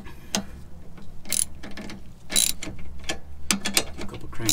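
Inner tie rod tool being cranked tight on a Ford Mustang's tie rod, giving a few sharp metallic ratcheting clicks in short bursts, close and fairly loud, with no talking.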